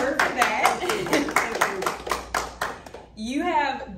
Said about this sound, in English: a round of applause for her for that